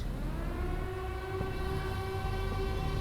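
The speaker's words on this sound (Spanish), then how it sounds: "¿Oye eso, detective? La sirena anuncia que un nuevo pecador, usted, ha sido llamado a cuentas." A steady, droning siren-like tone holds over a loud rumbling background, sustained without break for a few seconds.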